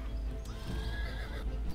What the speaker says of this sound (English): Some horses there, whatever the fuck they are.